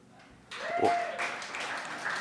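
An audience at a live comedy show breaks into a short burst of clapping, a few seconds of applause that rises quickly and then holds steady over a murmuring room.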